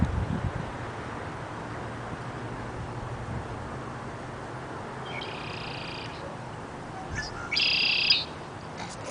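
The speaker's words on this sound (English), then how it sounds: "You can hear him, he's having a conversation with one that's a little further away." A blackbird sings on a neighborhood nature walk from roughly ten feet away, answering another bird farther off; two short, bright phrases ring out over a steady outdoor hush, the second louder.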